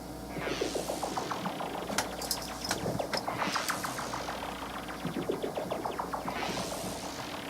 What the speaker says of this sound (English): the next synth we come to is what's called the sci-fi synth and the spin synth